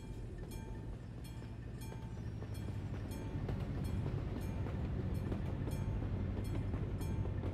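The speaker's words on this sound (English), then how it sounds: "didn't the train just go by?" A train rolls past in the Euro Truck Simulator driving game, a steady, dense rumble with rhythmic wheel clatter that swells slightly louder midway and keeps up throughout, with no talking.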